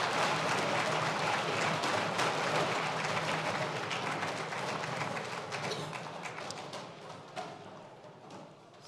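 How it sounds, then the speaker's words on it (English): A competition audience applauds steadily in a large hall, a dense wash of many hands that slowly thins toward the end. "Big round of applause for all of our competitors today."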